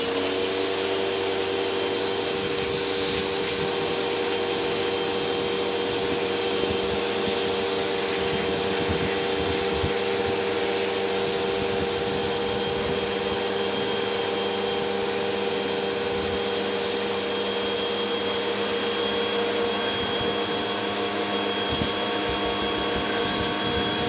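Vacuum cleaners run continuously in a home, a loud steady whirring hum with faint bumps and scraping as they are pushed around, with no talk.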